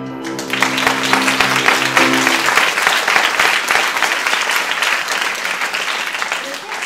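A theatre audience bursts into loud, dense applause at the start of a French comedy play, following a brief musical chord; the clapping stays strong and steady to the end.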